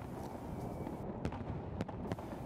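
Distant New Year fireworks over Red Square in Moscow pop and crackle through a dense, continuous outdoor rumble, with several sharper bursts standing out near the middle.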